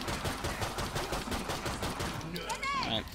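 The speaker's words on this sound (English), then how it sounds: "he's gonna start using his gun" A boss in the video game Killing Floor 2 fires his gun in a rapid, continuous stream of loud bursts, ending with warbling electronic whines.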